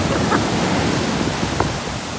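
Ocean waves on the Kanagawa coast, a dense, constant roar of surf close by, with no clear breaks between the waves.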